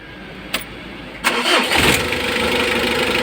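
A Mitsubishi L300 van engine cranks and catches, a brief starter whir followed by the motor firing and settling into a steady, close idle with no talk over it.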